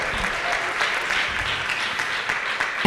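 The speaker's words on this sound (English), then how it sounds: "Yes, let's clap it up." An audience claps steadily at a commemorative event, dense and continuous applause throughout a short stretch.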